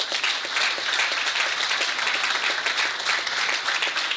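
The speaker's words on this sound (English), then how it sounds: "If you could give a little wave and give them a round of applause." At a Noblesville groundbreaking ceremony with Pacers Sports & Entertainment, an audience gives sustained, even applause for city council members, a thick wash of many hands clapping throughout without speech.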